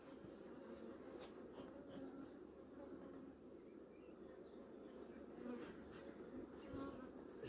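A colony of honeybees drones steadily around an open hive in a Drôme apiary, a soft, continuous buzz that holds level throughout.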